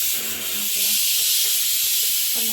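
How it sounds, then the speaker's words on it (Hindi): Pressure cooker on a gas stove releasing a loud continuous hissing whistle of steam, close by and steady throughout, with a voice faintly underneath. "और यहाँ पर सीटी भी एकदम आ चुकी है मेरे कुकर में"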